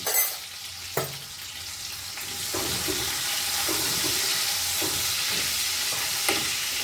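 Vegetables and potato pieces with a little salt and turmeric fry in a pan for Govindabhog rice polao, a continuous close sizzle with a few sharp utensil taps and stirring knocks.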